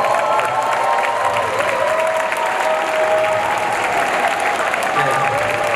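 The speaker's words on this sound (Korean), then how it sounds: "큰 박수로 맞이해주십니다" Loud, sustained applause from a large audience on a film festival red carpet, with some cheering and voices mixed into the dense clapping.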